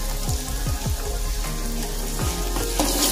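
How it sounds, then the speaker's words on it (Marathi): Ginger, garlic and green chilli paste frying with browned onion in hot oil, a steady close sizzle with several soft stirring scrapes through a short stretch, no talking. "हे चांगलं ना मिक्स करून घेऊया आपण तेलामध्ये, फ्राय करून घेऊया।"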